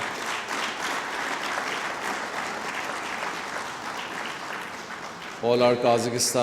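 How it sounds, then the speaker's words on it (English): A large audience claps steadily and continuously for a visiting Kazakhstan delegation in Pakistan, a dense wash of applause, before a voice starts speaking over it near the end. "I would like to request all of you to give a very big applause"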